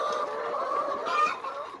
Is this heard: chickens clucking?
yes